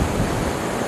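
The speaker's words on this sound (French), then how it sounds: "il y a du vent" Wind blows steadily outdoors in Ardèche, heard as a loud, even rush of broadband noise buffeting the microphone.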